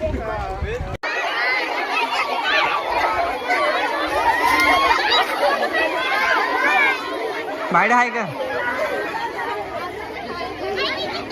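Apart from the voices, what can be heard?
chattering village crowd at a song shoot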